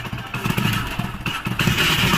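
A motorbike is ridden along a village road toward farm fields, its engine humming steadily and rising briefly in a mid-range drone with some rattle, close and continuous without talk.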